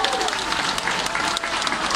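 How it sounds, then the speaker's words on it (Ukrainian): An audience in a hall breaks into steady, dense applause, moderately loud and continuous throughout, with no other sounds standing out. "Привітайте оплесками."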